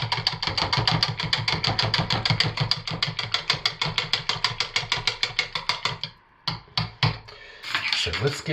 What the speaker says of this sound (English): So let's get this titanium dioxide stick blended in